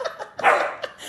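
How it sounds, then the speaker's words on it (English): A puppy playing with a big dog gives a quick run of short, high yipping barks, close and loud, with no talk. "That's a puppy. Playing with the big dog."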